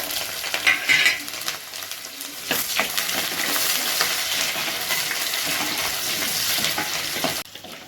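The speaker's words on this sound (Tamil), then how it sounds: "வெங்காயம் வெந்துட்டுருக்கு" Onions frying in hot oil in a kadai, a loud, continuous close-up sizzle with brief scraping and stirring bursts early on, then a steady hiss that cuts off near the end.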